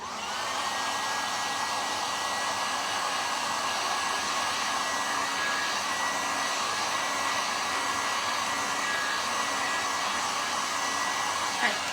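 A hair dryer runs steadily and loudly, close up and alone, drying Mod Podge on a decorated Hobby Lobby wood plate, with a constant airy roar and a thin whine throughout.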